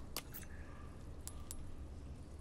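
Keys jangle in Resident Evil 4 Remake, a couple of quick metallic rattles that are fairly faint over a low background rumble.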